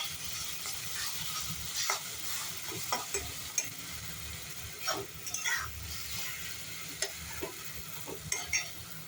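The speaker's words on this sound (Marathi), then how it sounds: "वांग छान परतलं गेलंय." Eggplant being stir-fried for Maharashtrian baingan bharta (vangyache bharit): a steady, quiet sizzle runs throughout, broken by intermittent scraping and clinking stirs, with no talking.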